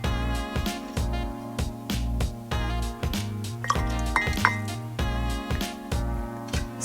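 A metal spoon stirs milk tea with half and half in a mug, clinking against the sides in a steady repeated rhythm, close and clear with no talking.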